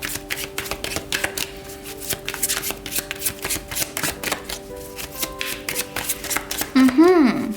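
Tarot cards shuffled by hand in a rapid, steady riffling patter, close and fairly quiet, with a faint hum beneath and a brief tonal sound near the end.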